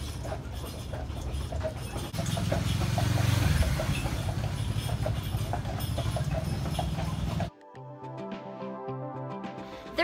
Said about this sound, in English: we're gonna go on this horse trolley tour